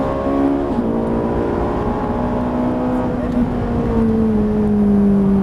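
A Ferrari 458 Italia engine revs up under full throttle on a track, a loud steady rising drone close inside the car, with a voice speaking over it.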